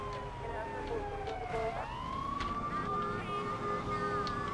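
Police car siren in the video game GTA 3, a loud wailing tone that sweeps downward then holds steady, over continuous game engine and traffic noise with faint voices beneath.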